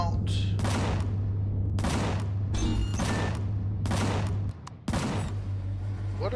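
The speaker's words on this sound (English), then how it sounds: "What are my turrets shooting at?" Ship turrets in Empyrion: Galactic Survival firing in a series of sharp, loud bursts at irregular intervals over a steady low engine hum, with someone talking between the shots.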